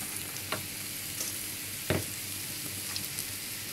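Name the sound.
prawns sizzling as they are added to the frying pan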